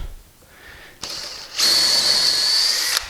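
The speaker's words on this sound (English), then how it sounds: "chuck up your bit that's a 64th over your axle size" A power drill with a bit a sixty-fourth over axle size bores out toy wheels, giving a short burst, then a sustained steady whine for over a second before it stops.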